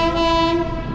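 A train at a railway station sounds a steady, loud horn blast for about a second over a rumbling rail background, close by.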